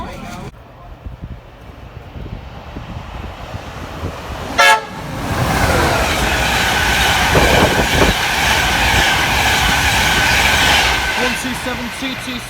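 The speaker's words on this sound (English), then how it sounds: "Down the other end, there's a freight train in there." A freight train rumbles past near Peterborough station, a loud steady roar with clicking wheels and a short horn toot, while people talk nearby.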